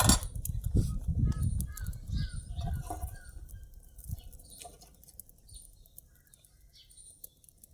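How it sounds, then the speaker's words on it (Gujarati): Sparrows arrive at an outdoor spot, their wings flapping in soft fluttering bursts that are strongest at first and then fade into quieter rustles and faint chirps, heard close by. "જો ચકલાઓ આવી ગયા"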